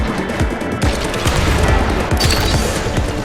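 Explosions from the Rollerdrome video game, a dense continuous barrage of rapid blasts and booming impacts that fills the whole stretch loudly, with no talking.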